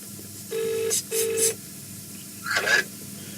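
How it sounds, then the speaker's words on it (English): Two short electronic ring tones in quick succession, then a brief warbling burst, clear and close over a faint hum. "Oh, it's ringing."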